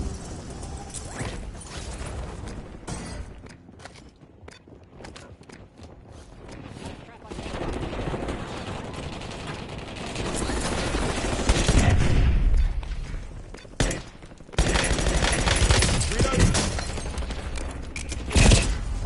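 Gunfire from the player's weapon in a shooter video game comes in bursts of sharp shots and mechanical clatter. It grows denser and louder in the second half and keeps going under people talking.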